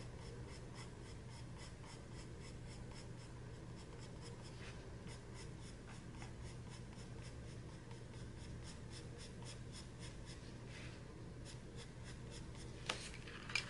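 Soft, continuous scratching of a colored pencil on paper, with quick back-and-forth strokes and a couple of sharper taps near the end.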